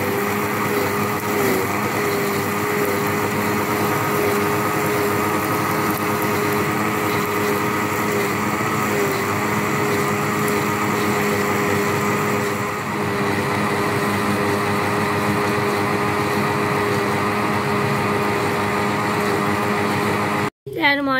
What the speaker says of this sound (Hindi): अब इसे अच्छे से ग्राइंड करेंगे ताकि सेब भी अच्छे से ग्राइंड हो जाए